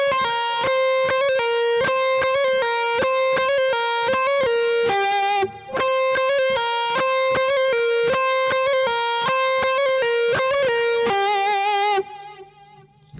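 Distorted electric guitar plays a phrase slowly, with clear separate notes in a steady pulse and a brief gap midway, ending on a fading held note, loud and alone.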